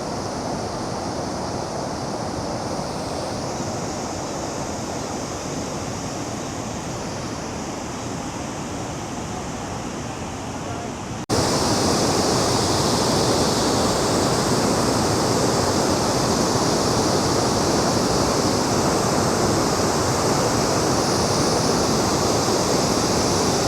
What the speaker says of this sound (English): A little bit closer to Abbey Mill and the waterfall.